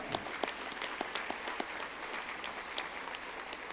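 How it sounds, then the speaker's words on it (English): Steady applause from a crowd at a small business awards gala, a dense patter of many hands clapping that holds evenly from start to finish without voices. "So big round of applause for both Michigan 50 Distinguished Alumni Awardees."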